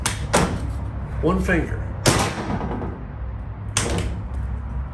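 Drop-down feed doors on an all-aluminum 2023 Sundowner 3-horse bumper-pull trailer: three sharp metallic clanks spaced roughly two seconds apart, close and loud, with someone speaking briefly between them.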